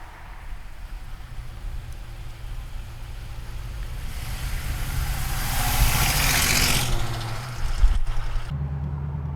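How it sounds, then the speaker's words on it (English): A 1969 Chevrolet Camaro convertible pulling out of a lot for a ride, its engine a steady low rumble that swells with a rising whoosh midway, then settles back and drops off sharply near the end. "All right, guys, taking the 1969 Camaro for a ride."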